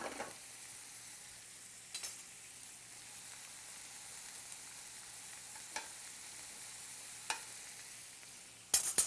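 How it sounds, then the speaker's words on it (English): Apples caramelizing in a hot pan give a steady, even sizzle as they are stirred. A few sharp clacks and scrapes of the utensil stand out at intervals, with no talk. "Our apples are caramelizing wonderfully. Just spin those around a little bit."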